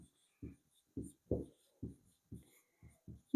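Handwriting a definition with pen on paper, a series of soft, close scratchy strokes in an uneven rhythm, about eight separate strokes with quiet pauses between.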